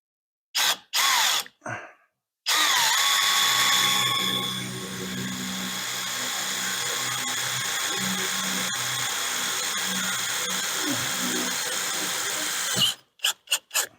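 A power drill whines steadily for about ten seconds, driving a screw during an RV renovation, with short bursts of drilling before and after the long run, loud and close.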